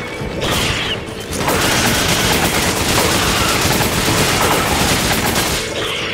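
Dense, rapid gunfire from a Resident Evil 5 co-op session, loud and continuous for several seconds with booming shots layered together and little else audible.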